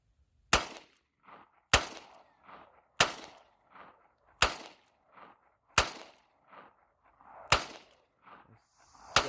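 Revolver firing Aguila ammunition outdoors, seven sharp loud shots at steady intervals of about a second, each followed by a short echoing tail and faint clatter.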